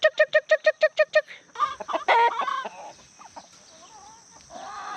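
Backyard garden chickens cluck and squawk close by: a fast run of about nine evenly spaced clucks opens, followed by a loud burst of mixed squawks and softer scattered calls from the flock.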